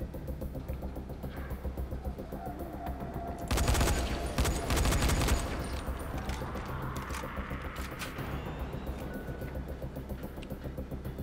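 Gunfire in the zombie survival video game Dying Light: a burst of rapid shots lasting about two seconds mid-clip, over a steady game soundscape and background noise.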